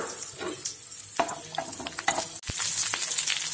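Small shallots go into hot oil in a kadai, with a few clinks and light stirring before a sudden, loud, bright sizzle swells up and keeps going.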